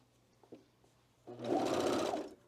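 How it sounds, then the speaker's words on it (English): A sewing machine stitches a seam on a scarf, running loud and steady in one continuous burst of about a second after a few soft clicks of handling. "I'm just going to continue this seam here"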